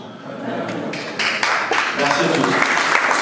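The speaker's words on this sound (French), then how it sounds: "comme la salle applaudit" Applause from an audience in a conference hall at a symposium on pesticides and health, a dense patter of many hands clapping that holds steady and swells slightly toward the end, with voices mixed in underneath.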